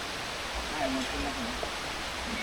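Sai Yok Noi waterfall in Sai Yok National Park, Kanchanaburi, in the rainy season, gives a steady broadband rush of falling water heard from nearby, with faint voices mixed in.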